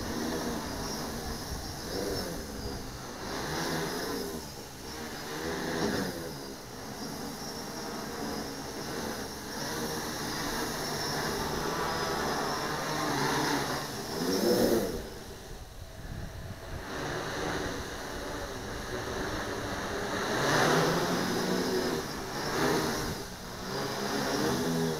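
A Hobbyking SX650 glass-fiber hexacopter with a 650mm frame flies with its motors running, a continuous whirring drone under wind noise that swells and fades as it moves about.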